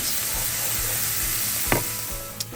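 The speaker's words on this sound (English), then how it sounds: "we're gonna saute this until it's translucent" A finely diced large Spanish onion sautés in a pan with a steady close sizzle, broken by a couple of brief stirring scrapes.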